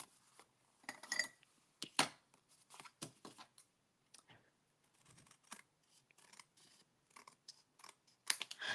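Scissors trim paper for a flip-out booklet mini scrapbook, giving close, crisp snips in irregular bursts with short pauses, and no talking.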